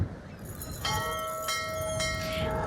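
A bell in the video game Syberia rings out in several clear, resonant strikes that sustain and overlap above a steady ambient background, close and fairly loud.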